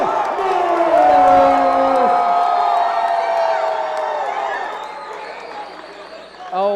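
Crowd of fight fans cheering and whooping at a live fight event in Spartanburg, South Carolina, loud and sustained at first, then easing, with voices mixed through the roar.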